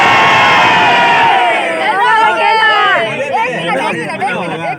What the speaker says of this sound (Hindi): ये जो नौजवान आज चिल्ला रहे हैं ना